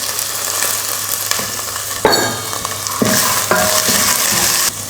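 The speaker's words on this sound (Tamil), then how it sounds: "இஞ்சி பூண்டு வதங்கினதுமே பட்டாணி சேர்த்துக்கலாம்." Soaked dried peas are stirred into sautéing ginger and garlic in hot oil, giving a steady close sizzle with scraping and clattering stirs of a spoon against the pan.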